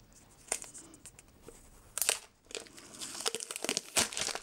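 Plastic wrap is peeled off Huawei P30 Pro phone packaging, giving quiet, close crinkling and crackling in irregular bursts with a few sharper snaps.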